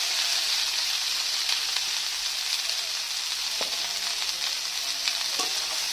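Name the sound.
potatoes, eggplant and cauliflower stirred while frying in a pan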